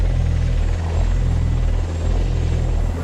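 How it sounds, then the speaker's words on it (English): An Apache attack helicopter in Afghanistan thunders overhead, its rotor chop pulsing steadily and loud with a constant heavy engine drone and no voices. "An Apache attack helicopter arrives."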